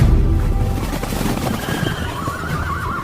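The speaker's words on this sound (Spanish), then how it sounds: "Naamán fue con su carro y sus caballos y se detuvo a la puerta de la casa de Eliseo." Horses neigh and whinny loudly in a rising call, backed by a low rumble that suggests a chariot and team standing at a house door in a biblical setting.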